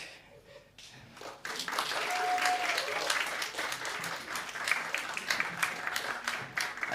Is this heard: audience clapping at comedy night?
yes